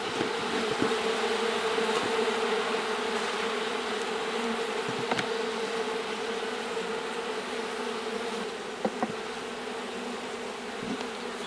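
Honey bees buzz in a dense, steady drone from an open hive during an apiary inspection, with occasional light knocks and clicks of handling beneath the swarm sound.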